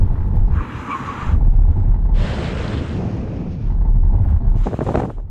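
Strong wind buffets a microphone in heavy, rumbling gusts that swell and fade, loud and close, with a steady low roar underneath.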